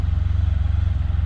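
A Harley-Davidson V-Rod motorcycle rides on a cold day, its engine a loud, close, steady low throb with a fast regular pulse and no talk.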